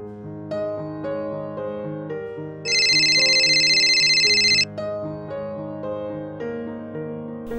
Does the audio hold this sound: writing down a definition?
no